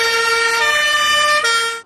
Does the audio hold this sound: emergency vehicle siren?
yes